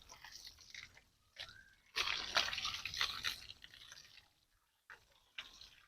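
Water splashing while farm animals are bathed in hot summer weather: irregular close bursts of splashing and dripping, separated by brief quiet gaps, with no talk.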